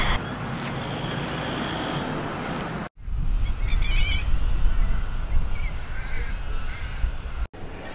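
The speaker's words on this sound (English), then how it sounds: "trying to get herself accommodated with some of the local wildlife, aka some of the birds." Birds call across open Australian outback scrub near Broken Hill, crow-like caws and chatter set against steady wind and ambient noise, heard from a moderate distance.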